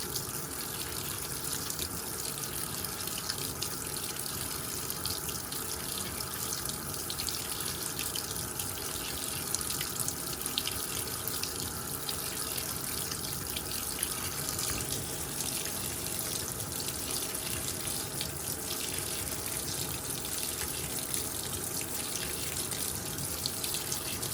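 Water pours steadily into a Panasonic 9.5kg top-loading washing machine as it fills, a continuous close rushing hiss that stays even throughout with no voices.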